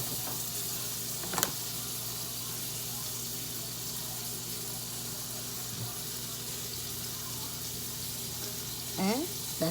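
Butter sizzles in a hot pan while grilled chicken and cheese quesadillas are made, a steady close hiss running throughout with a couple of brief clinks of utensils.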